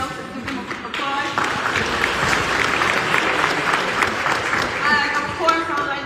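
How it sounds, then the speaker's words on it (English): An audience at a recreation center grand opening press conference breaks into sustained clapping that swells after the first second and holds steady, with cheers and voices mixed in at the start and end. "God Squad, give them a round of applause."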